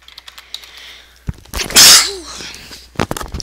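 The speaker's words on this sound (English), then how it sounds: "Ooh, bless me, I sneezed." A single sharp human sneeze bursts out loud and close, with a quick intake of breath before it and a few faint clicks and rustles around it.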